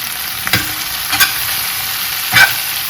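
Stuffed white bitter gourds fry in a pan while a spatula turns them. Steady hiss runs underneath, broken by three sharp scraping turns, and no one speaks.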